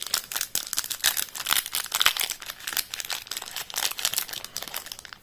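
A Yu-Gi-Oh booster pack is torn open, its foil wrapper crinkling in dense, continuous bursts of crackling and crumpling close up, with no talking.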